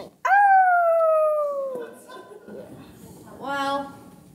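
A pet dog howls in a long, sliding, song-like tone that drifts downward, then after a pause gives a shorter second howl, heard fairly close with a faint voice nearby.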